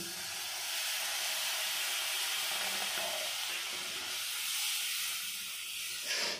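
Egg malai curry masala simmers after coconut milk is added, giving a steady, soft broadband hiss and bubbling sizzle that stays even for several seconds at moderate closeness, with no talk.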